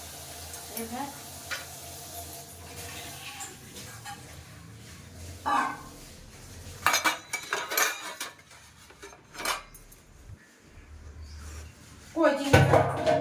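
Two bowls are set down among freshly washed dishes in a home kitchen, producing clustered ceramic and metal clinks and clatters in several bursts, with people talking nearby between the knocks.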